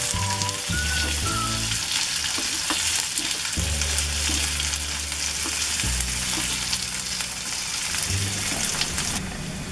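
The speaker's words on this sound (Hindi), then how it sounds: "आलू को भी हम हल्का फ्राई कर लेंगे प्याज के साथ।" Chopped potatoes fry in a pan with browned onions for a capsicum and potato dish, giving a loud, steady sizzle that runs unbroken throughout with no voices.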